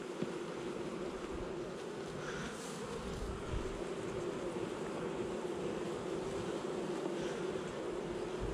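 Continuous close hum of a honey bee colony during an August honey harvest, a thick even buzz of many wings with no talking over it.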